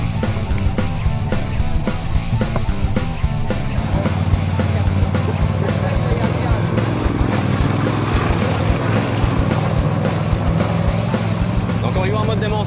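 An Argo 750 HDI amphibious ATV from 2015, which has no suspension, sets off with a loud, steady engine drone and a rattling clatter, heard up close alongside talking.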